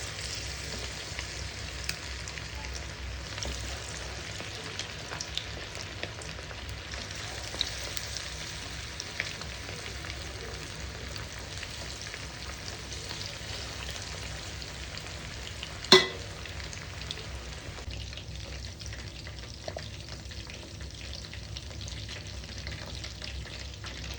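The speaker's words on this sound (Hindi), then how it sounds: "इसको आपको 10 to 15 मिनट तक डीप फ्राई करना है" Chicken 65 pieces deep frying in hot oil, giving a continuous, even bubbling sizzle heard up close for a long stretch, with one sharp clink partway through and no talking.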